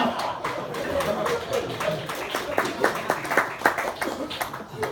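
Comedy-show audience clapping, a loose burst of many hands that rises and thins over a few seconds, moderately close, with some crowd murmur mixed in.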